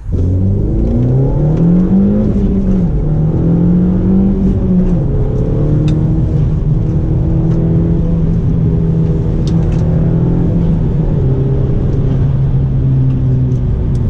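A car engine revs up and accelerates, then settles into a steady droning cruise with road rumble throughout; no talking.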